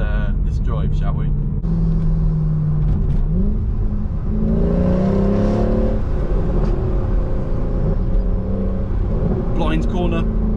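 Mercedes C63 AMG engine driving and revving, a loud continuous rumble with rising and falling rev sweeps from inside the car, occasional higher whirs, held steady throughout.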